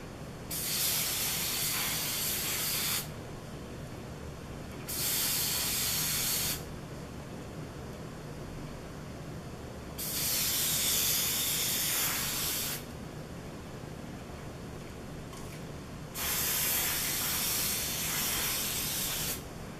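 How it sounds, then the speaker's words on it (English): Hairspray hisses in four separate bursts of roughly two seconds each, a close, light misting spray with quiet pauses between, and no talking. "Get my hairspray."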